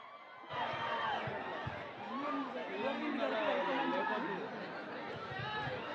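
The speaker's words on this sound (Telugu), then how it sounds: "ఈ అరుపులన్నీ ఎస్కేఎన్ గారికి." Crowd at a film trailer launch event shouting and cheering in a loud, continuous roar of many voices that rises and swells throughout.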